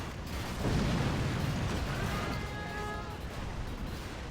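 A Black Bear unit blown up in the Rise of the Reds real-time strategy game: a loud, sustained rumbling explosion swells and slowly fades, with a faint whining tone through the middle.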